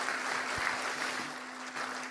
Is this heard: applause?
yes